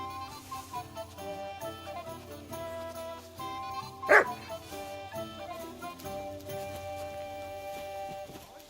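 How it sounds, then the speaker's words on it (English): A dog barks once, sharply and loudly, in the medieval role-playing game Kingdom Come: Deliverance 2, over a soft game music score that continues before and after. "You silly doggy."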